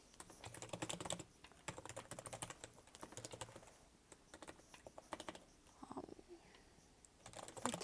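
Someone typing code on a computer keyboard, quick irregular bursts of key clicks with short pauses between them, close and fairly quiet, with no talking.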